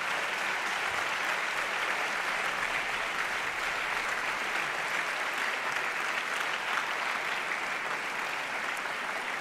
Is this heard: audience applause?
yes